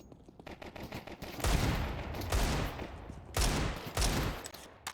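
Rifle fire in a Counter-Strike match on the Anubis map, played at a professional esports event: several loud, close bursts of rapid shots with short pauses between volleys.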